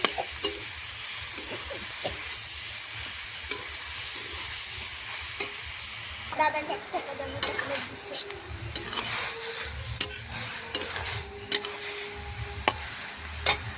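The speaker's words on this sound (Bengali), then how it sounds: "শাকটা কিছুক্ষণ ভেজে নেবে" Bathua greens fry in a pan with ginger and green chili over a tempering, giving a steady close sizzle, then brisk stirring with scrapes and sharp utensil taps against the pan.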